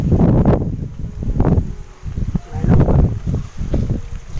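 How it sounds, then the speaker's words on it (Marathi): Strong gusts of wind blowing through garden plants on a village evening, heavy rumbling buffets that rise and fall against the microphone, with leaves rustling. "बघा वारा किती इतका वारा सुटलाय ना"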